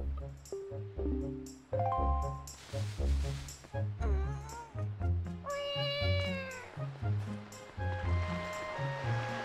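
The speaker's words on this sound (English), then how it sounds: "Don't you love making cat noises whenever you jump?" Repeated cartoonish cat meows sound each time the character jumps in The Legend of Zelda: The Wind Waker, layered over game music with steady beats and sweeping tones.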